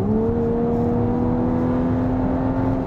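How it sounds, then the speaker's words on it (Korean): A Volkswagen Atlas SUV engine revs hard in sport mode, its droning tone climbing steadily in pitch past 5000 rpm as it pulls, loud and continuous from inside the vehicle. "엔진 회전수를 5000rpm 이상까지 쭉 밀어서 올리는 거를 볼 수 있고요."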